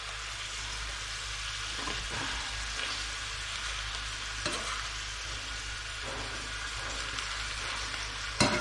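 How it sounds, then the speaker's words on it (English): Spinach sizzles steadily in a chorizo pasta pan, a dense continuous frying hiss with a few faint stirring knocks and scrapes, close and unbroken throughout with no talk. "add some spinach into my bad boy pan"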